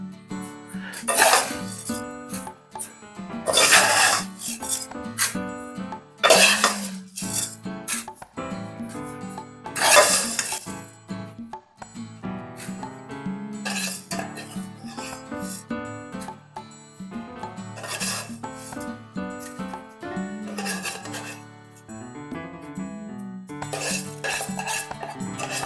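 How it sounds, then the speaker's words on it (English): Toasted orzo being spooned into a dish of lamb juices for a Greek lamb youvetsi, repeated sharp clinks and scrapes of a metal spoon against the dish in irregular bursts, close and fairly loud. "Now we spoon in our orzo"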